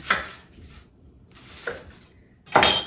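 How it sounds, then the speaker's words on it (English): A kitchen knife cuts through an onion on a board to top and tail it, giving three crisp, close chops spaced unevenly over a few seconds with quiet pauses between them. "I'm just going to quickly top and tail my onion"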